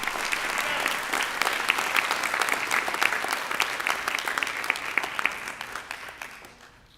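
At a school board meeting, an audience gives a steady round of applause for students and their teacher and attorney coaches; the clapping holds for several seconds and then tapers off at the end.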